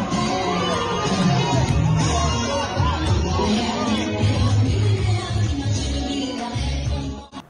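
Crowd at a New Carrollton welcome rally for Cellou Dalein Diallo, a loud continuous babble of voices with shouts and whoops, fading near the end.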